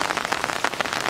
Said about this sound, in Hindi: और बड़ा बारिश बहुत तेज हो गई